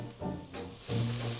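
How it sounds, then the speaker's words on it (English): Chopped onions, celery and bell peppers hiss and sizzle as they hit a hot gumbo roux, a soft, steady frying crackle heard close but fairly quiet, with no talking. "That sizzle means that there's water coming out of the vegetables"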